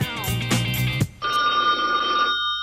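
A telephone rings loudly in short bursts, followed by a steady electronic tone, close and clear with no talk.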